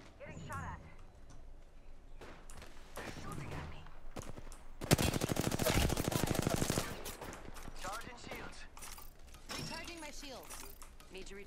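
Gunfire in an Apex Legends match: scattered shots and a sustained rapid automatic burst at mid-clip, mixed with game effects and talk.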